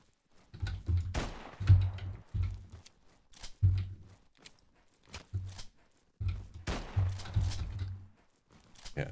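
A weapon fires in an indie video game, with bursts of punchy, low thudding shots in short irregular volleys separated by brief pauses.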